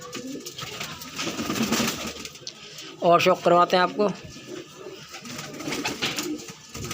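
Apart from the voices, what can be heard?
pigeons cooing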